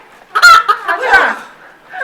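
Chickens cluck near a campsite restaurant in Gimnyeong, Jeju, in short, repeated bursts that are fairly loud and close, with a faint voice mixed in.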